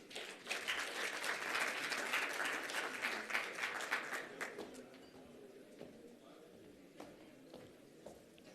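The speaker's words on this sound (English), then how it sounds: "Let's please give him a round of applause." Applause for a speaker at the closing ceremony of a hydrogen energy summit, dense clapping from a seated audience that swells, then thins out after about five seconds into a few scattered claps.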